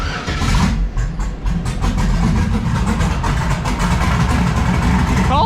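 A car engine fires up from cold and settles into a steady, loud idle, its low rumble running continuously with a brief voice heard near the start.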